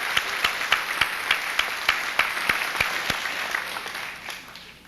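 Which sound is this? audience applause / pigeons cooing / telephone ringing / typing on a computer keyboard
audience applause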